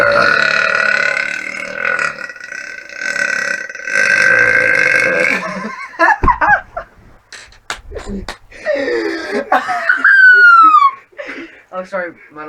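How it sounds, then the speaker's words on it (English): A long, loud burp, a man's large belch drawn out for several seconds, followed by a pause, then people laughing and talking close by. "But that was a good burp."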